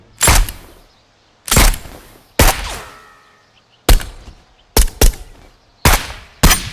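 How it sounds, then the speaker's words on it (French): Realistic dubbed gunshots ring out over the Tontons flingueurs shootout scene, about eight sharp, loud blasts in irregular succession, some with a short ringing tail and two fired close together, with brief quiet gaps between. "imaginez la fameuse scène des tontons flingueurs où on a mis des bruits de flingues réalistes"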